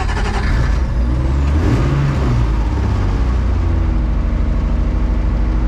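Turbocharged drag car engine running loud and close at 25 psi boost, a dense continuous roar with the throttle opened up and pitch swells midway, no talk.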